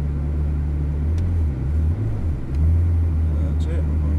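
A Ferrari 360 creeps forward through cones under light throttle, its low engine drone close and steady, dipping and rising briefly before settling back into a smooth hum.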